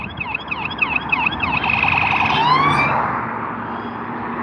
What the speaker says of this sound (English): There's an English police car, folks.